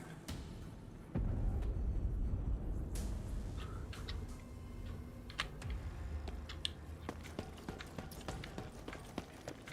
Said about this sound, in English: you can hear my crappy keyboard clacks